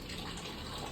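Water pours steadily from an Aquaguard 200 unlimited flow purifier in a brief, even, quiet gush with no voices.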